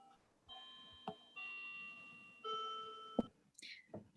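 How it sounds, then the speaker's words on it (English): An electronic doorbell chimes a sequence of clear sustained tones, fairly faint, with a couple of soft knocks between notes. "I hear your doorbell."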